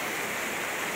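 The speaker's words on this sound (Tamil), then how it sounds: "இப்போ தண்ணி வந்து ஆர்ப்பரிச்சு ஓடுது, அருவி போல் ஓடுது" Rainwater after a long downpour rushing down a hillside like a waterfall, a loud continuous broadband roar with no pauses, close by.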